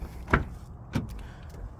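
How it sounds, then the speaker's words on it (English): The door of a 2023 BMW M2 opens with two sharp, close clicks about half a second apart, the latch release followed by the door swinging free, in a quiet setting. "I'll open the door."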